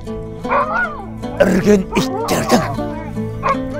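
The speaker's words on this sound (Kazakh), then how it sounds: "Үрген иттердің дауысы." Several dogs barking and yelping close by, uneven bursts of barks with whimpering tones in between, partly mixed with voices.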